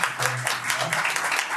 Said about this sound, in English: Everybody, could you give Mohammed a round of applause?